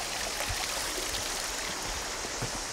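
Water rushes and babbles continuously in a Kentucky creek, a steady broad wash of flowing water with no voices.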